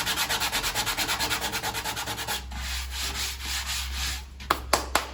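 Rhythmic back-and-forth sanding of wood on a saz body under repair, brisk regular strokes up close, then a softer continuous rub ending in a few sharp taps.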